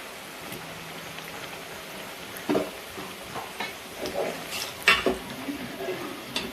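Sweet potato gulab jamun frying in oil over a low flame, a gentle rain-like sizzle with scattered pops and bubbling bursts growing livelier toward the end, quiet and close with no talking.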